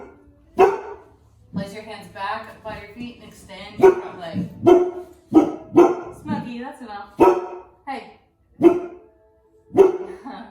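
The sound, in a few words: dog barking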